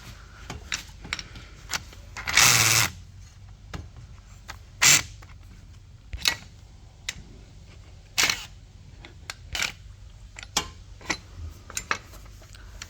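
A socket ratchets at a bolt on the transmission mount of a BMW 740i, giving sparse, close clicks and a few louder ratcheting bursts spread irregularly over several seconds.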